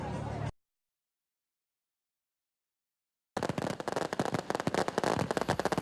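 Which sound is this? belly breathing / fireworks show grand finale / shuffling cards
fireworks show grand finale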